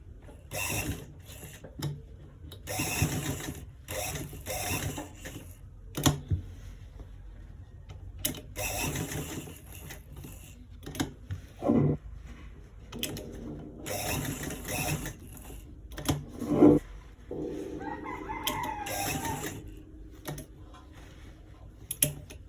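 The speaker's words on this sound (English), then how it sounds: "now I'm gonna stitch it all around to get to the finish line" A sewing machine stitches a circle design onto a shirt, with repeated runs of fast mechanical clattering broken by pauses, plus occasional clicks and handling noises.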